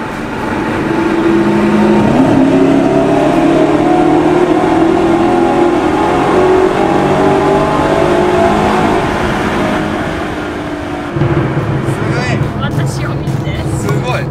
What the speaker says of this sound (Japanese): トンネルに来たので、ちょっとスポーツに入れて窓も開けて、どんな音か